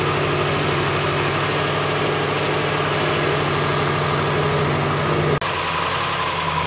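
Big-turbo Subaru STi engine idling inside a garage, a loud, steady low drone with a throbbing pulse that changes abruptly near the end.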